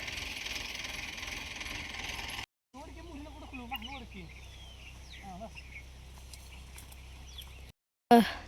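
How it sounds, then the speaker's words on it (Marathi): A tractor engine rumbles low and steady as it creeps forward through a sugarcane field, with people talking over it and a few short breaks in the sound. "जसं टाकन तसं ट्रॅक्टर पुढे घेतोय"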